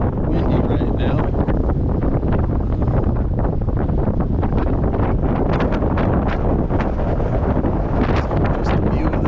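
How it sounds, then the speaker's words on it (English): Strong wind sweeps across a reservoir at North Sterling State Park, a steady, loud broadband roar with gusty buffeting on the microphone throughout. "And as you can probably hear, it's windy right now."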